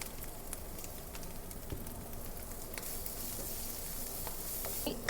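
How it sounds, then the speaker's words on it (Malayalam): Venison with shallots and salt sizzling steadily as it is stirred in a pan, a continuous close frying hiss with scattered scraping clicks of the spoon. "അതും നന്നായിട്ടൊന്ന് ഇളക്കി കൊടുക്കുക"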